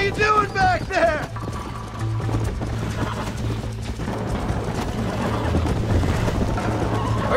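A horse gallops in Red Dead Redemption, with rhythmic hoofbeats under a steady game soundtrack as players chat over the top.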